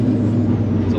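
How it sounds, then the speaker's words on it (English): Turbocharged car cruising slowly, with a steady engine drone, a faint high turbo whistle and a soft flutter near the end, under a voice. "turbo whistle, nice little flutter."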